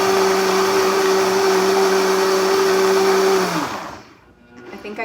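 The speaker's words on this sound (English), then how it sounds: "If turn your blender down really low and you can still hear it" A Vitamix blender churns a slushy on low speed, a loud steady motor whine with grinding ice for about three and a half seconds, then it winds down and cuts off, leaving faint clatter.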